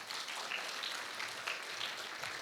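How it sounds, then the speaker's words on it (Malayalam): An audience applauding a church choir at a gathering, a steady wash of many hands clapping at a moderate distance, fairly faint and continuous throughout. "നമുക്ക് സ്നേഹത്തോടെ നമ്മുടെ ഈ ഗായക സംഘത്തിനൊരു നല്ലൊരു കയ്യടി കൊടുത്താലോ"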